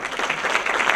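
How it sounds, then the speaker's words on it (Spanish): Brief burst of audience applause at a conference on personal data protection in Latin America, a steady, moderately loud patter of many hands. "Aplausos para ustedes"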